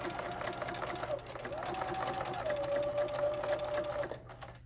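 A sewing machine stitches down an apron seam, a steady close mechanical whir with a rising motor whine, sounding continuously from start to finish.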